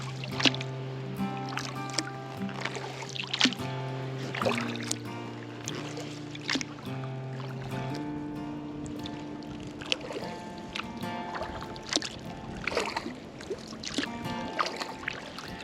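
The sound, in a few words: kayak paddling on Lake Barclay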